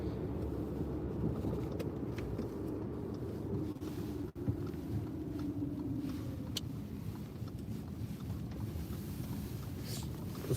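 A 2008 Audi A6 2.0 TFSI with a 125 kW petrol engine and 162,000 km driving on a highway, a steady low engine and road drone with wind rush, heard from inside, no talk.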